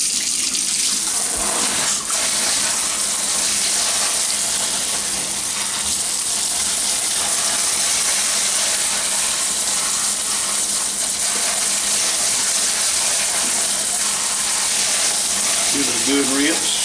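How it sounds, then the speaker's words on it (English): A kitchen sink sprayer runs nonstop in a strong, close, hissing stream as it rinses a circuit board from a Delmonico FMS-749 AM-FM tabletop receiver, with a brief voice near the end. "Let's get my sprayer going here."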